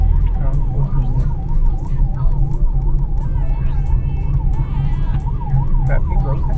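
A wailing ambulance siren rises and falls steadily over dense night traffic on India's NH-27 highway and engine rumble, with horn-like tones and faint voices mixed in.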